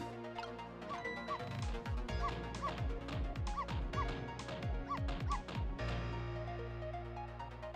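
A dog barks repeatedly in a quick, regular run of sharp yaps close by, roughly a dozen barks over several seconds before it stops.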